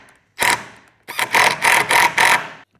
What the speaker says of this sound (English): We're going to get one of the longer screws, and there's already a pre-drilled hole that we're going to screw.